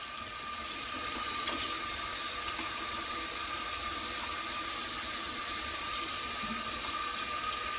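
Tap water runs steadily into a sink as a foundation makeup brush is rinsed clean, a continuous close hiss of flowing water with no talk over it.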